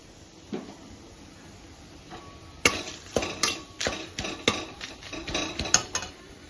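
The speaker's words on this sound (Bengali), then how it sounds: "তেজপাতা, শুকনো লঙ্কা, গোটা গরম মশলা আছে" Whole garam masala, bay leaf and dried chilli drop into a hot kadai, bringing a run of sharp metallic clinks and clatters from the pan and spoon, close and fairly loud, after a quieter start.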